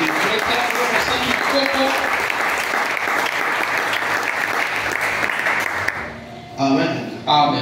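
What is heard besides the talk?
congregation applauding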